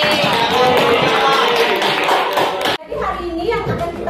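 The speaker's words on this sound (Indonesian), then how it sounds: "tepuk tangan untuk Henry" A classroom of students applauds for a classmate named Henry, dense clapping for nearly three seconds before it stops abruptly, followed by chatter and children's voices in the room.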